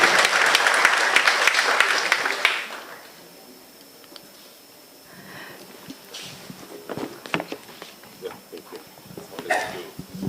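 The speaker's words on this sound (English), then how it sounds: "Round of applause for John while I set this up." Audience applause for speaker John Oku at an energy forum session on mini-grids, loud for about two and a half seconds, then cutting off into a quiet room with scattered knocks, shuffling and faint voices.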